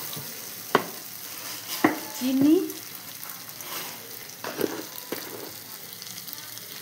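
Ground spice paste frying and being stirred in a pan, a steady soft sizzle broken by sharp scraping clinks of a spoon against the pan, with a brief spoken word.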